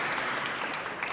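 An audience claps together at a talk show, a brief, steady burst of dense applause at moderate distance, with no voices over it.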